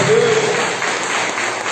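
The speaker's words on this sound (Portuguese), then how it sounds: "A salva de palmas para o Espírito Santo de Deus." Congregation applause in a church, a short steady burst of clapping with a faint voice briefly audible at the start.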